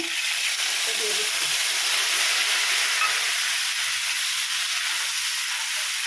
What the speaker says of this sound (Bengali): দিয়ে আমি কিছুক্ষণ কষে থাকবো